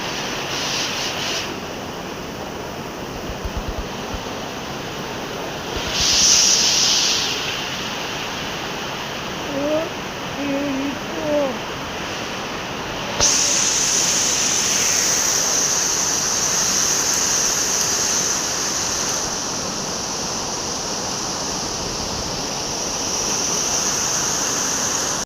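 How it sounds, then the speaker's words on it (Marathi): Heavy monsoon rain pours down in a steady, roaring wash that swells louder partway through and holds there, with brief faint voices in the background. "तर पुन्हा पाऊस बघा कसा एकदम"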